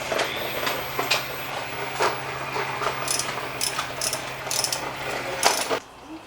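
A ratchet wrench clicks rapidly as it backs out the last 9/16 bolt from an engine bracket on a 1986 Mustang GT during a stock engine teardown, with metallic ticks and clinks close by, ending in a brief pause.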